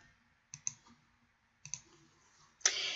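Computer mouse clicks at a desk: two quick double clicks spaced about a second apart, then a final click followed by a brief soft hiss, crisp and close in a quiet room.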